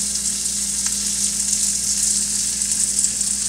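Onions and other hard vegetables frying in a pan give a steady, even sizzle with a brief stir partway through, close and continuous with no talking.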